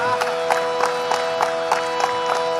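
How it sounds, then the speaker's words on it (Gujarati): A comedy show audience in Gujarat breaks into rhythmic clapping, steady beats of applause with a faint crowd murmur underneath, close and sustained across the moment. "એને એક વખત જોરદાર તાળીઓથી વધાવો"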